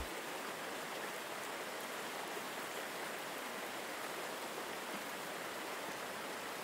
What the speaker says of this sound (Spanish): el sonido de la cascada a tu alrededor crea un entorno perfecto para la quietud mental